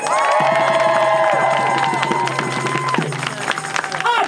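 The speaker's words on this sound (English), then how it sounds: "Let's give her one more round of applause." A protest crowd in San Diego cheers and applauds loudly, a dense roar of voices and clapping with tonal shouts and a sustained, strained vocal tone running through it.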